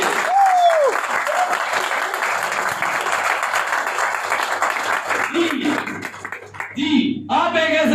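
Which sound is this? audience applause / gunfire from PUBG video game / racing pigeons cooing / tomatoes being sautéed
audience applause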